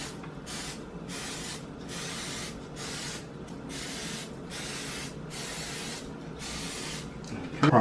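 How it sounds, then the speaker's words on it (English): Non-stick cooking spray hisses from a can in about nine short, evenly spaced bursts, close and fairly loud, while crawfish-box dishes are being prepared in a home kitchen. "With some non-stick spraying on."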